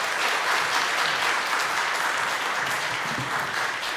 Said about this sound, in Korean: 여러분께서 큰 박수로 환영해 주시고